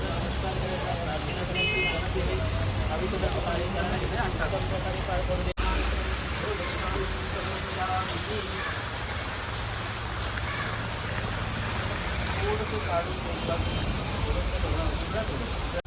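Heavy rain pours down steadily around a household puja gathering, a dense, loud and continuous hiss that fills the whole stretch, with faint voices beneath it.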